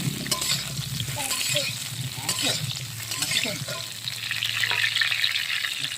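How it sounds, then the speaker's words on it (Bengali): Cut potatoes fry in hot oil with no seasoning, making a constant close sizzle and crackle with occasional stirring scrapes over a low hum. "তো এবার আমি এই কেটে রাখা আলুগুলো ভেজে নেব লাল লাল করে।"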